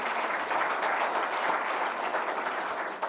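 Sustained applause from a large audience, a dense, even wash of clapping hands that carries on without pause.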